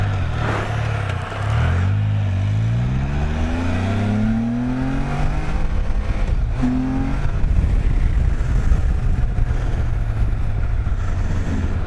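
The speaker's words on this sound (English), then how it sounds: "Got some race cars right there." Race cars roar past nearby, engines rising and falling in pitch as they accelerate by one after another, with wind buffeting the microphone and no talk.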